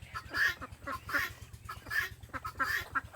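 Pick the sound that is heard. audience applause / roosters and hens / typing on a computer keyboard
roosters and hens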